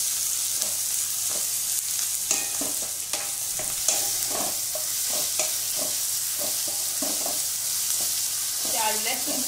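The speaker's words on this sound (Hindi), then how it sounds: "इसे भी हम 2 से 3 मिनट तक प्याज के साथ भूनेंगे।" Onion with pounded ginger and garlic frying in a pan, with steady sizzling and repeated stirring scrapes throughout, close and moderately loud.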